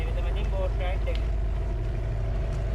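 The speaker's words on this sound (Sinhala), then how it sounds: "මේක තමයි බෝට් රයිඩ් එක." A motorboat on Koggala lake in Galle gives a steady, loud, low engine drone with water rushing throughout.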